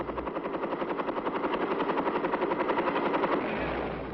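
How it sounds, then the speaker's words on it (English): Chinook cargo helicopters carrying 105mm howitzers by sling into a tactical zone, a loud, close, rapid rotor chop pulsing steadily before easing off at the end. "105mm howitzers are sling carried into the tactical zone by Chinook cargo helicopters."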